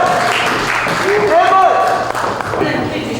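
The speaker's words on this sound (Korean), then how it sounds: "큰 박수 부탁드립니다" An audience at a pop song concert applauds as a guest singer is welcomed, steady moderate clapping running throughout, with voices and a faint tonal sound rising briefly in the middle.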